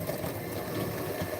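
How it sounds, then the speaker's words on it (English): A hand mixer runs continuously, a steady close whirring motor drone with a slightly rough, buzzing texture and no pauses. "This is a hand mixer."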